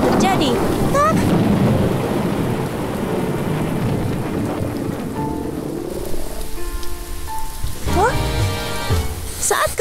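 Dense rain falling and hissing on surfaces, loud and continuous, with low rumbling and some tonal musical or effect sounds layered in toward the end.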